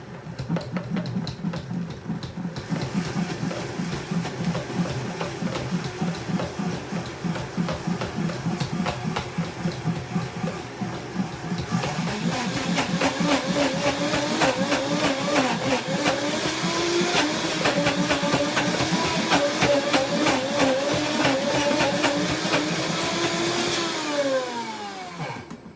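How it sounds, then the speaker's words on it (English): A high-powered blender churns banana lime bar dough for vegan paleo bars while a tamper presses it down. The motor whirs loud and continuous, rising in pitch and intensity about halfway through, then winding down at the end. "And now we're gonna blend it until it becomes dough-like."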